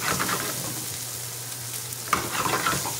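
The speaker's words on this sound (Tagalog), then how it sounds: "Binigisa na natin." Atlantic tiger shrimp sautéing in a pan, a steady soft sizzle with a brief clatter of stirring partway through, close and continuous with no talking.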